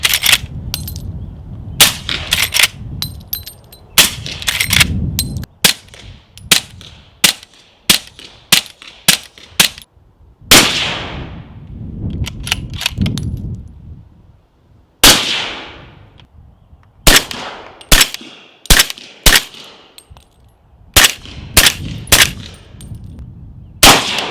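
Suppressed gunfire through a Bushwhacker 46 silencer, sharp loud cracks fired singly and in quick strings with short pauses, the shots carrying a ringing tail between them and no voices.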